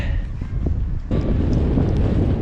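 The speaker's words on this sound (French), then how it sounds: "il y a du vent et il commence à pleuvoir" Strong wind buffets the microphone in loud, rumbling gusts that swell sharply partway through, outdoors at a building site as rain begins.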